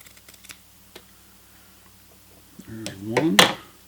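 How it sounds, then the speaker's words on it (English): Pinking shears snip through fabric seam allowance on a throw pillow, a few crisp, close cuts clustered near the end after quiet handling clicks, with no talking. "I'm going to go ahead and use pinking shears and cut my seam allowance here"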